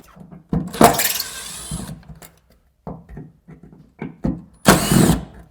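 Power tool working the sun visor screws on an abandoned 1968 Mustang under restoration: two loud, short whirring bursts, one near the start and one at the end, separated by quieter handling clatter.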